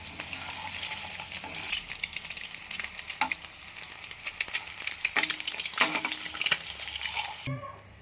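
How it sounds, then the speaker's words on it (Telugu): Eggs frying in oil for a spicy egg curry, a steady crackling sizzle with scraping stir strokes, fairly close and loud, with a brief tap-water-like burst near the end and no talk. "ఎగ్ ఎల్లో కలర్ వచ్చేదాకా ఫ్రై చేసుకోవాలి"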